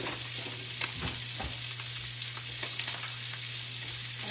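Salmon fillet fries skin side down in a hot pan, giving a steady, close sizzle with faint crackles and a few soft pops throughout, no voices.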